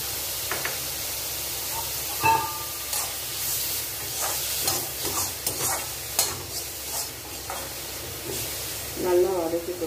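Cauliflower sautéing in a little oil with salt in a pan for a Chettinad-style fry, a steady close sizzle with repeated scraping stir strokes, under intermittent talk.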